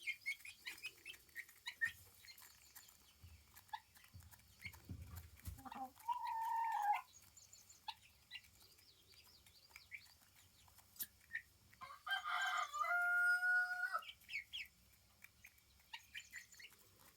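Backyard chickens cluck and chirp softly in the distance, with two drawn-out rooster crows standing out clearly over quiet surroundings.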